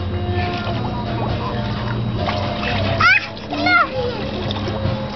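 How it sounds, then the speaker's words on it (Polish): Water splashing in a swimming pool as children play, brief splashes and sloshing under constant chatter, with a voice rising and squealing nearby. "Ona chce wlać ci wodę."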